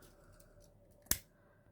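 A single sharp snip of scissors cutting a curve into the tails of a twisted hoop ribbon hair bow, one crisp close cut in a quiet room.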